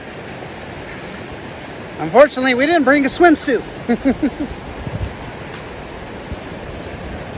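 A creek in Spearfish Canyon flows steadily on a hot day as a broadband rushing hiss running through the whole stretch, while someone speaks briefly over it in the middle.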